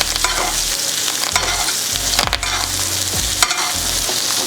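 Butter sizzles loudly in a hot pan as it is spooned over a bourbon maple coffee rubbed steak, a steady crackling hiss broken by clinks of the spoon against the pan, with no talking.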